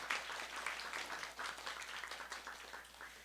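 A church youth-group congregation claps for a visiting missionary during a Sunday worship service; scattered, fairly faint applause with uneven individual claps continuing steadily throughout.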